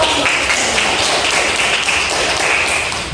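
A classroom of students applauds after a group presentation, with steady, dense hand clapping throughout, loud and close, without any clear break.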